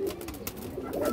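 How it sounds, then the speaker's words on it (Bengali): A red gora male pigeon coos quietly nearby, a low, brief, wavering burble over faint background noise, with no talking. "খুবই সুন্দর একটা কবুতর, লাল গিয়ারের গড়া নর কবুতর দর্শক"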